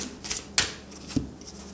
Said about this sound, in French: je vais quand même retirer une petite carte au-dessus